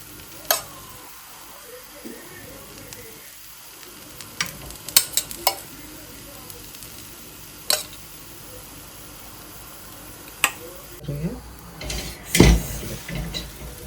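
Puran poli cooking on a hot tawa with ghee added at the sides, a soft continuous sizzle under scattered sharp clicks and taps of utensils, growing busier and louder near the end.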